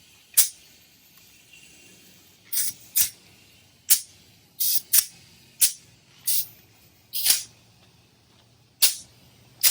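Short bursts of air hiss repeatedly as a 2018 Honda CRF250L Rally motorcycle tire is inflated, about ten sharp, fairly loud spurts spaced irregularly over steady quiet background.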